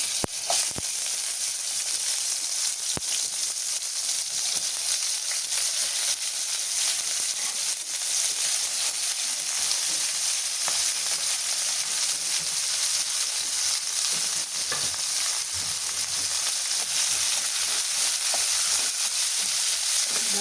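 Tomato, carrot, cabbage and capsicum sauté in oil for pasta, producing a continuous, close sizzle with faint stirring clicks that stays steady and unbroken throughout.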